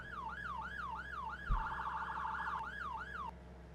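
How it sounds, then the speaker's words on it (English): Emergency vehicle sirens in the video game Farming Simulator 19, a wailing siren rising and falling in a steady, moderately loud cycle, joined midway by a second, faster overlapping siren before the single wail resumes and cuts off. "The sirens are new. Kyle added those in."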